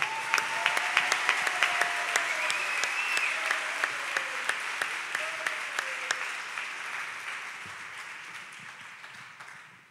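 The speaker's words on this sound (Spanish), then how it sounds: "Y un fuerte aplauso a la palabra de Dios." A church congregation applauds after the Gospel reading at a Saturday Mass homily, a dense patter of many hands that holds steady and slowly fades near the end, with faint voices and a few sharper claps standing out.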